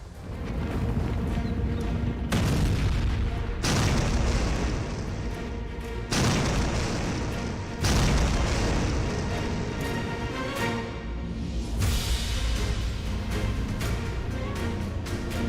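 Bomb blasts from French Rafale jet strikes on ISIS positions in Syria: several heavy, loud booms at irregular intervals, each followed by dense rumbling that fills the gaps, with no voices.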